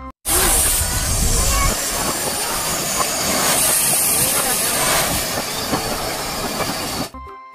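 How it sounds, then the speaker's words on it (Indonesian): A red Thomas train produces a loud, continuous rumble with hissing and squealing wheels that runs steadily for about seven seconds before cutting off abruptly. "Warna merah ada kereta Thomas."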